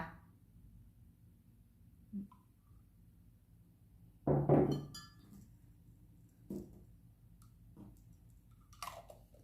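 Clove oil in a glass bottle getting a pump cap fitted: scattered faint glassy clinks and plastic clicks, with one louder cluster of rattling taps in the middle, in quiet surroundings.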